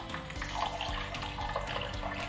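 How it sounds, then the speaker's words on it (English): Water pours over washed white rice set to soak, a continuous close splashing and gurgling stream with bubbly churning throughout. "adding enough water"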